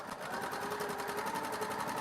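A domestic sewing machine runs continuously at a fast, even pace, its rapid stitching rhythm close and steady throughout, with no voice.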